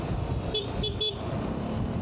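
A Zontes 400G motorcycle horn gives three short, thin, high beeps in quick succession, moderately loud over steady road and traffic noise.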